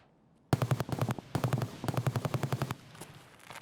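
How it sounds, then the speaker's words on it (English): Automatic gunfire in the Escape from Tarkov shooter game: several rapid bursts of sharp, evenly spaced shots, loud and close, with brief gaps between bursts before trailing off into quieter, more distant pops. "We're gonna move while there's gunshots."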